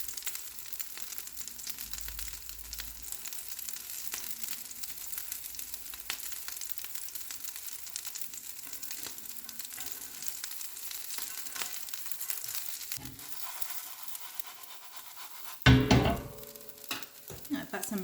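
Chickpea balls sizzle and fry gently in a pan while browning, a faint steady crackle throughout, ending with a louder clatter as they are turned over.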